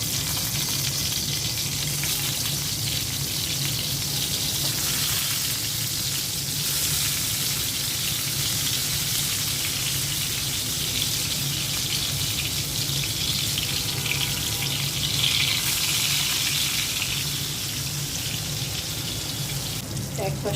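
Pointed gourd (potol) fries in oil in a frying pan, giving a close, continuous crackling sizzle that carries on steadily for about twenty seconds.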